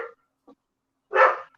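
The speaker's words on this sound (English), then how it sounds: "Oh, there's a dog." A dog gives a single loud bark, preceded by a couple of faint short yips, nearby in a quiet room.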